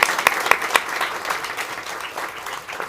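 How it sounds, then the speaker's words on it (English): An audience at a Nobel Peace Prize 2024 celebration breaks into applause, with a few sharp, distinct claps at the start before a fuller, dense round of clapping that gradually tapers off. "I think we want to applaud that last comment."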